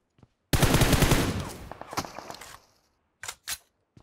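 Rapid automatic gunfire in the mobile battle royale game PUBG Mobile, a loud sustained burst for about two seconds that tails off, followed by two short separate shots, with no talking.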